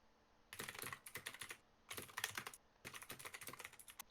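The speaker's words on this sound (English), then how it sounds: "that's just my loud ass typing" Rapid, loud clacking on a computer keyboard in three quick bursts separated by short pauses, close and crisp, with no talking.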